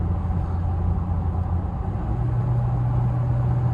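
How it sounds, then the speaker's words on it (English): A 2022 Toyota Tacoma SR with the 2.7L engine shifts gears while driving, its steady low engine drone changing pitch partway through as the transmission changes gear, with road rumble throughout. "There's that upshift again, or downshift again."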